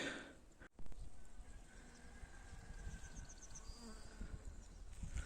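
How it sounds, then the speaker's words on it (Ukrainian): Bees buzz steadily outdoors on a cloudy day beside a pond against a noisy background, with a brief sharp knock near the start and some faint higher tones drifting past. "Бджоли літають уже, хоча сьогодні хмарний день, але літають"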